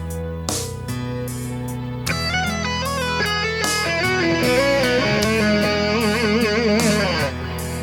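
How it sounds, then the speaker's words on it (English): Electric guitar plays a flowing arpeggio lick with backslides and bright upper neighbor tones over a sustained low note, clean and steady with no talking. "very cool arpeggio with the backslides with the neighbor tones on top"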